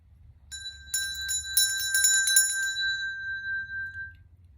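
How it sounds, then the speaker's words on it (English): A small metal bell is rung in a love spell ritual, a rapid cluster of bright, ringing strikes that then fades into a long shimmering decay over a low background hum. "And I ring a bell to send my intention out and to clarify."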